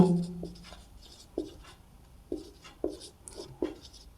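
Writing on a board during a maths class, with a series of short close taps and strokes in an uneven rhythm and no voices over them.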